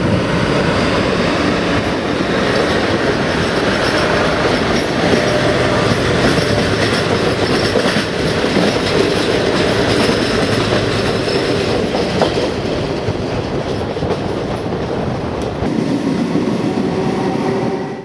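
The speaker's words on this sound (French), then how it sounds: "Il y a du matériel ferroviaire de toutes les générations en gare de Novara." Trains of many generations at Novara railway station in Italy, a loud, continuous rumble of rolling wagons with rhythmic clickety-clack of wheels and faint squeals, sustained and close throughout.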